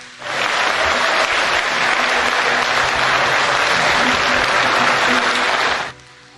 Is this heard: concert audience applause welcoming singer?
yes